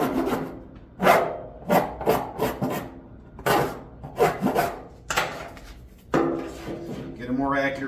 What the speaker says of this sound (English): Now you come in with files and you can start filing.